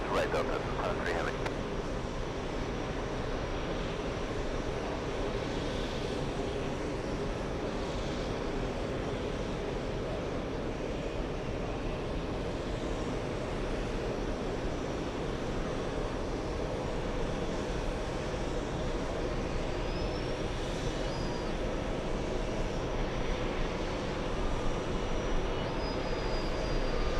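Airliner taxiing at an airport, a steady, broad rumbling engine drone that holds evenly throughout with no break, with speech faintly in the background.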